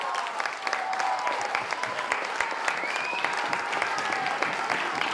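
Sustained audience applause at a high-school eloquence prize and debate ceremony, as a crowd claps steadily for a winning student, dense and even throughout with scattered sharp claps.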